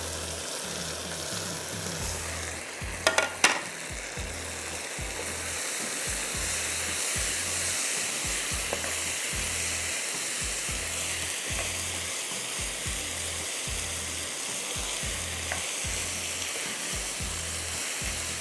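Capsicum, onion, tomato and cabbage stir-fry in a hot pan for a pasta dish, giving a steady broad sizzle close by, with a brief clatter of utensils early on and occasional soft stirring; no talking.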